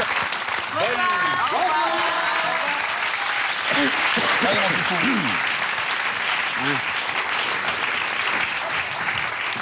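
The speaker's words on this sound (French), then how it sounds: "Applaudissements pour toute l'équipe." A stand-up comedy audience applauds loudly and steadily throughout, a dense wash of clapping with a voice talking over it.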